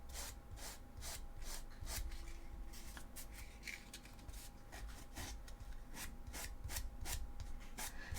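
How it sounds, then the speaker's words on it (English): A cut corner of a foam chainsword cosplay prop is hand-sanded smooth, a quiet, close, repetitive scratchy rubbing in rhythmic strokes, without talk. "I've cut the other corner off now, and I'm just sanding it smooth"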